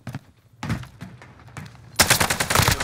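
Bursts of CW AK assault rifle fire in a battle royale shooter game, a short volley, a pause with scattered shots, then a loud sustained burst, close and sharp with no talk over it.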